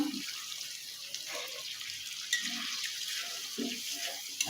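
Water runs in a steady pour into pigeon meat curry in a pan, with a continuous splashing hiss and a few soft bubbling gurgles.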